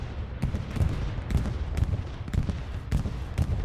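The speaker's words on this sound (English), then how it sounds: "Bombing run coming on through." A World War II video game battle around a train station in Carentan, with a bombing run delivering repeated heavy booms and bursts, some six or seven blasts in irregular rhythm over a constant rumbling din of combat.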